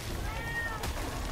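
A tomcat gives a single drawn-out meow, fairly close and clear, over a low steady background hum.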